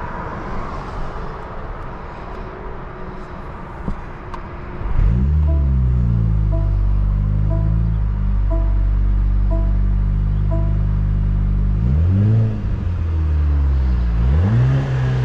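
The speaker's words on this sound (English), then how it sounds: "let's go ahead and take this all-new AMG C43 on a drive and see how it does." A 2023 Mercedes-AMG C43 with a 2.0 turbo inline-4 idles softly, then pulls away with a loud rising engine drone through the gears, easing off and revving up again near the end.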